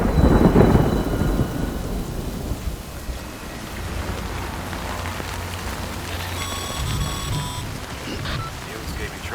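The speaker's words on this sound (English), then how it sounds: "Good thing it was raining." Rain pours steadily in Death Stranding, a dense hiss over a low rumble of thunder that is strongest at the start and then settles into a constant downpour with a faint tonal hum.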